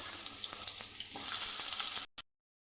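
Cut potatoes and pointed gourd frying together in hot oil, a steady close sizzle with faint stirring scrapes that cuts off abruptly near the end after a brief final burst.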